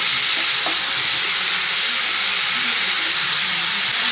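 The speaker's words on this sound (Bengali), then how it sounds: "ভালো করে একটু নাড়াচাড়া করে দেবো আবার।" Pumpkin, potato and drumstick curry sizzles loudly in a pan while it is stirred, a steady close hiss of frying that stays constant throughout, with no talk.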